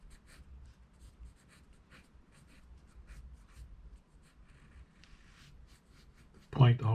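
A pencil sketches Mickey Mouse on paper, a steady run of soft scratchy strokes that ends in a sudden louder scrape.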